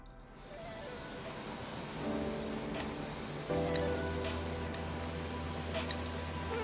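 Primer being sprayed onto a Nissan Rogue body panel gives a loud continuous spray hiss, up close, with a compressor-like hum underneath and a few brief clicks.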